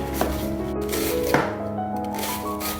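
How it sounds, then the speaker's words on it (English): A knife finely shreds cabbage on a cutting board, making a few sharp, close chopping taps over a continuous tonal background. "So just try to take out that core so you don't get any hard lumps with it, and just finely shred it."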